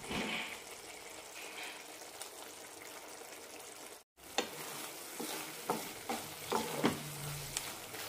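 Ivy gourd curry cooking over a low flame: a soft, quiet simmer and bubbling, then after a brief dropout, a few spoon scrapes and stirring knocks against the pan, with no talking.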